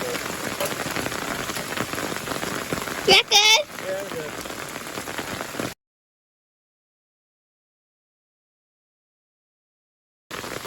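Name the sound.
rain falling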